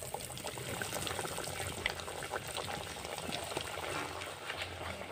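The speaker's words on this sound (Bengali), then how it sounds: "তেলটা গরম হয়ে গেছে, এইবারে আমি এক এক করে কাটলেটগুলো ছেড়ে দেব" Chire (flattened rice) cutlets sizzle in hot white oil in a kadai, a continuous soft crackle and bubbling hiss, fairly quiet and even throughout.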